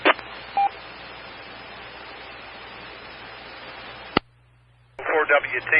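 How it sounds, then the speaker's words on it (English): A burst of telephone DTMF dialing tones cuts through a steady hiss of amateur repeater radio static, ending abruptly before a short stretch of quiet and then a voice. "I'm going to call them on the phone."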